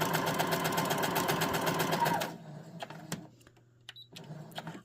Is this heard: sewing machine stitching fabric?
yes